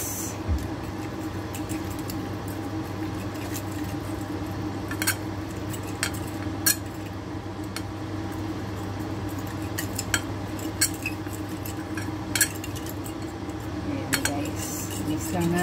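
A spoon clinks and scrapes in a bowl as squash fritter batter is mixed with turmeric and water, the sporadic light taps sitting over a steady low background hum.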